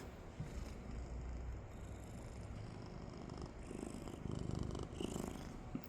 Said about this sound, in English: I'm petting a cat right now off camera